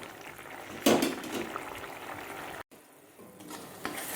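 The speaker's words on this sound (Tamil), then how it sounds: "நல்லா கொதிச்சிட்ருக்கு பட்டாணி வெந்துருச்சு" A pot of green peas gravy bubbling and simmering at close range, with soft steady boiling noise and an occasional louder spatter, no voices.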